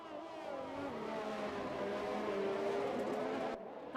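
Racing car engine from a Singapore race in an esports league racing video game, a sustained high-pitched drone with rising and falling pitch as the automatic gearbox shifts, loud and continuous before cutting off abruptly near the end.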